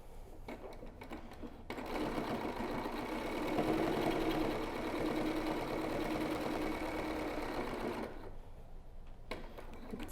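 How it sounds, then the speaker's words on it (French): A sewing machine topstitches very close to the edge of a pleated fabric face mask, a steady continuous whir running for several seconds with nearby low hum around it and no talking. "je vais venir ici passer une surpiqûre très, très, très près du bord."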